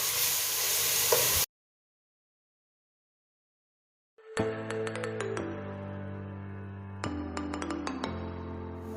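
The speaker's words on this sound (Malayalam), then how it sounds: "ഇതിൻ്റെ റോ സ്മെല്ല് മാറുന്ന വരെ നമുക്ക് നന്നായി ഇത് വഴറ്റിയെടുക്കാം" Ginger-garlic paste sautéing in a pan for Arabian chicken majboos: a close sizzle, then a pause of silence, then sizzling frying punctuated by sharp clinks of a spoon against the pan.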